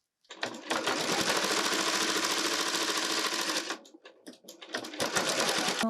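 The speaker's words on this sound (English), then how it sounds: "I'm gonna go ahead and sew this again with 1/4 inch of seam allowance." A sewing machine stitches a quarter-inch seam through quilting fabric for a scrappy pot holder, a loud close continuous rapid whir for about three seconds, then a pause and a few shorter bursts of stitching.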